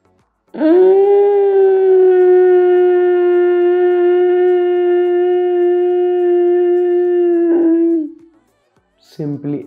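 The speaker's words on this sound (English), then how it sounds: "with inhalation, we need to create a sound from our throat" Throat sound made while inhaling during pranayama breathing for Parkinson's disease, a long steady toned hiss-like drone held for about seven seconds, close and loud, followed by a brief breath.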